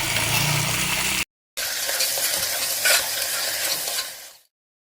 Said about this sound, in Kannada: ಈರುಳ್ಳಿ ಫ್ರೈ ಆಗ್ತಾಯಿದೆ